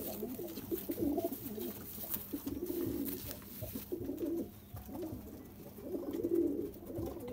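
Pigeons coo softly in a fancier's loft in Bakshi Nagar, Jammu and Kashmir, with several rounded, throaty coos repeating in slow bursts against faint background noise.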